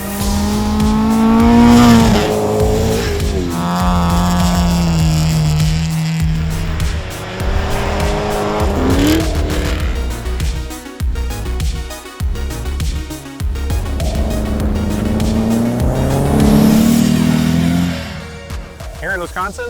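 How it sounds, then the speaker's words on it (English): Race cars run on the frozen lake of a Wisconsin ice racing event, a cold rallycross: loud engines rise and fall as they rev and shift, with a throaty roar throughout. A voice talks over the engine noise. "we have ice racing, which is basically just a really cold rallycross on a frozen lake"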